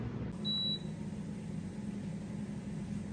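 A Power XL air fryer beeps once when started, a short bright tone over a steady low fan hum that continues afterward.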